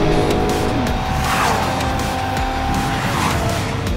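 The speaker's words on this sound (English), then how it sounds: "Oh, that is a lot of braking." An Audi RS3 brakes hard on a test track during a performance run. Its tires squeal and skid loud and close, and the squeal rises and falls twice over a continuous roar of engine and road noise.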